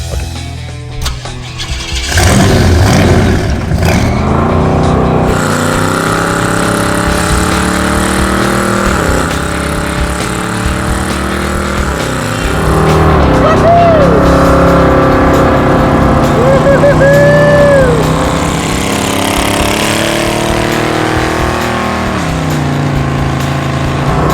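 Hot rod Gremlin engine starting and revving hard during burnouts, a loud, close, rough roar that swells and falls repeatedly over a long stretch with faint squeal-like tones.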